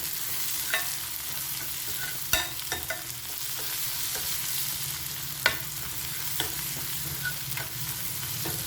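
Shallots sauté in a hot pan for a Kerala shallot curry, a steady sizzle running throughout with sharp spatula scrapes and taps breaking through at irregular intervals, close and clear.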